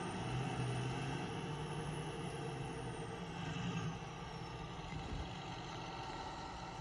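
A truck in Farming Simulator 25 idles with a steady engine drone and a thin high whistle that slowly glides downward, continuous and fairly loud, with no talk.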